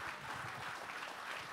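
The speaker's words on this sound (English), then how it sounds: "That deserves an applause right there." Church congregation applause at a Sunday service: a steady, even wash of many hands clapping, faint and distant, with no voices over it.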